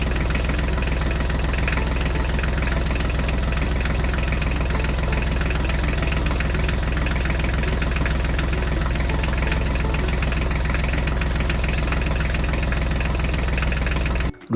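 A steady, loud knocking engine drone runs without a break for the whole stretch and cuts off abruptly at the end, from a toy Mahindra tractor.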